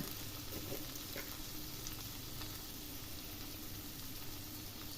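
Paneer frying in oil with turmeric powder and salt, a steady close sizzle with faint stirring scrapes running throughout, no talking.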